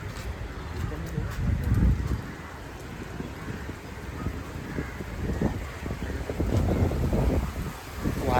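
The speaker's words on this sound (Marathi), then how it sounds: "वारा पण सुटलाय." Wind gusts buffet the microphone at an outdoor zoo in Mumbai, a steady rough rumble with stronger pushes near the start and toward the end, loud and close throughout.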